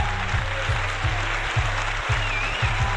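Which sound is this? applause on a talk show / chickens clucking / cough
applause on a talk show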